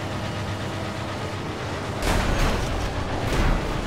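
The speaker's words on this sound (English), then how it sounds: "You can hear his engine from a mile away." An enemy car engine in the Mad Max video game, a loud rumbling roar that swells halfway through over a constant low drone of vehicle noise, with no talk.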